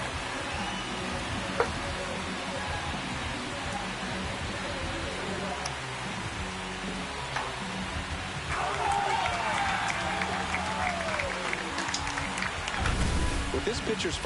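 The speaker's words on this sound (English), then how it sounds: "This crowd has really come alive." A baseball stadium crowd in MLB The Show 26, at a Miami Marlins franchise game, roars in a dense, steady wash of cheering that swells louder midway, with commentators talking over it.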